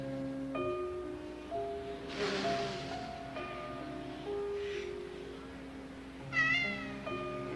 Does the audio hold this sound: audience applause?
no